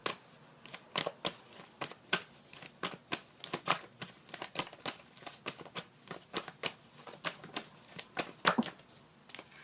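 A deck of tarot cards is shuffled by hand, close and fairly quiet, as a long series of quick, crisp riffling snaps in an uneven rhythm, each burst separated by brief pauses, with no talking.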